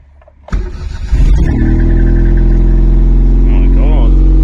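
A rotten Honda Acty JDM kei van engine cranks briefly, catches and roars into a loud, steady idle after its first start, close up.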